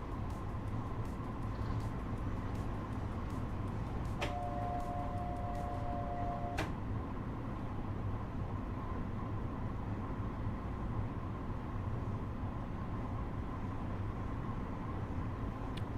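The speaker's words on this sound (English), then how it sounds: "This train is quite loud for me." A simulated train in Train Sim World 4 runs with a steady, loud rumble and a constant hum, joined midway by a brief high tonal whine, with no talk over it.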